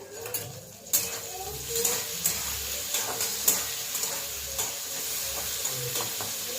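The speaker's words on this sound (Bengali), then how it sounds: "কাঁঠাল বীজটা ভাজা হোক" Jackfruit seeds frying in a pan, a steady close sizzle broken by scraping stirs and occasional clinks of a utensil against the pan, with no talking.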